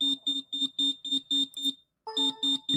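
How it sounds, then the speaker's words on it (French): A tracker device beeping in a fast, regular series of shrill electronic pulses, a brief pause, then the beeps resume in a slightly different tone, close and clear. "Le tracker, on l'entend au début."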